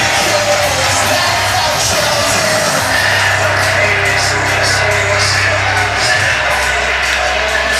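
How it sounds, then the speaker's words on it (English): Huge crowd cheering at a Hardrock MMA main event fight, a loud and steady roar of yelling and whooping voices with no break, and a low musical drone running beneath the noise. "Still a huge crowd here too"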